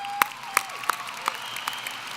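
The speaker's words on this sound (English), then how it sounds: "So round of applause for him." A high school graduation ceremony audience claps in a sparse, scattered way: a handful of distinct, faint, distant claps spaced out over a couple of seconds against a quiet hall background.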